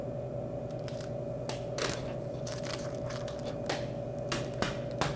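Plastic protective film being peeled off soda machine front graphics, a close series of crackly, crinkling rips and pulls over a steady background hum.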